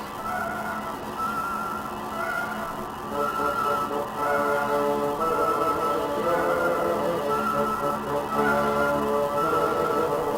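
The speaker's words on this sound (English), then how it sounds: "and he joined in with his loudest honk" A bassoon blows a loud, sustained honking line as part of an orchestral piece, with repeated swelling notes over a busy, dense ensemble texture and no speech.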